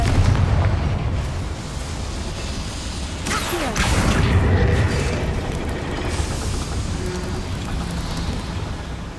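A boiler blown apart by the Bombarda spell in Hogwarts Legacy: a steady rumbling mechanical din broken by a sharp burst near the middle, then continued heavy roaring and rattling.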